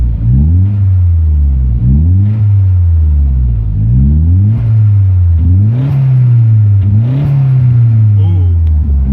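A car engine revs repeatedly, its rumbling note climbing and falling in a steady cycle of about five blips, loud and close from start to finish with no talk over it.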